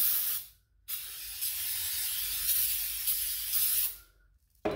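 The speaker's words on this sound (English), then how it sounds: "we're going to take some carb cleaner here and spray it around" Carb cleaner sprayed from an aerosol can around a crack in a John Deere R tractor tire, two close, hissing bursts, a short one at the start and a long sustained spray, separated by a brief pause.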